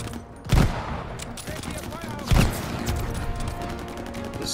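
Call of Duty Vanguard gunfire in the El Alamein trenches: two sharp, loud gunshot bursts over continuous battle noise and scattered shots, with a voice talking faintly underneath.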